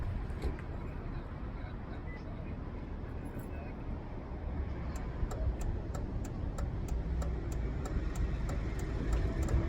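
A homemade third brake light flasher clicks in a steady, evenly spaced rhythm that starts partway through, fairly faint above a constant low rumbling background.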